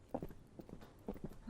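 A horse's hooves clip-clop at a walk, soft, uneven knocks in small pairs and groups, faint and close in a quiet setting.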